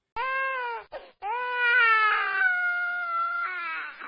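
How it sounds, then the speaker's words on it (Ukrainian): An infant wails loudly and steadily, with a short catch and a brief break near the start before one long, continuous cry that wavers in pitch. "Як плаче немовля."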